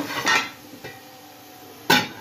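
A pot of masala is set down on a second stove burner over low heat. There are a few metallic clanks and scrapes, with a sharp clatter near the end and no talking.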